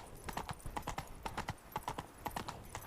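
Roach the horse being ridden in The Witcher 3 on Xbox, with steady rhythmic hoof clip-clops at a fast gait, close and continuous with no pauses.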